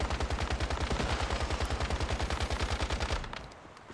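Gunfire in the survival shooter Once Human: a fast, evenly spaced automatic burst of about thirty close, loud shots that stops abruptly and leaves a fading tail.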